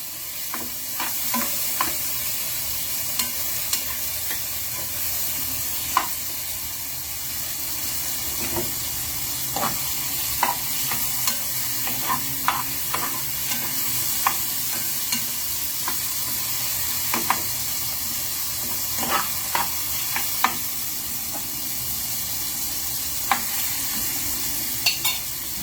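Squid sizzling loudly in a hot pan as it fries, with a constant hissing spatter and repeated sharp scrapes and clacks of stirring over the whole stretch, close by.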